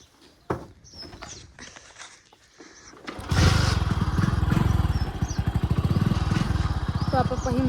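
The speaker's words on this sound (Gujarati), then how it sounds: "આપણે થોડી બાઇક લઈને જઈએ।" A motorbike starts off in a Gujarati village, quiet rustling and a few faint sounds giving way after a few seconds to a close, loud, steady engine drone with a throbbing pulse that continues to the end.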